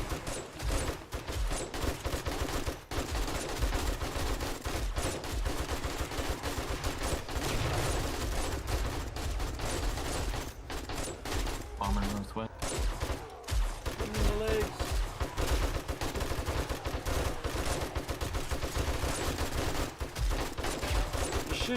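Players in 7 Days to Die fire at zombie bombers, producing heavy, continuous overlapping gunfire with rapid automatic bursts and scattered single shots, loud and steady throughout with a few brief dips.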